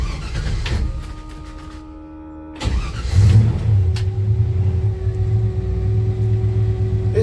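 Old Chevy truck with a 1992 Chevy 350 V8 and a three-speed column shift, idling loudly up close, then revving and settling into a steady, rumbling run.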